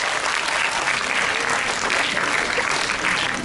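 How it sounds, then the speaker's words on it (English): Audience at a school interclass patriotic quiz competition applauding a team, a thick, continuous burst of clapping from many people, loud and close for the whole moment. "A huge round of applause."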